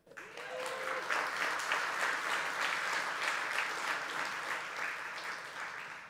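A church conference congregation breaks into clapping, starting suddenly and swelling into loud, full applause with a faintly pulsing rhythm, then slowly softening over about six seconds.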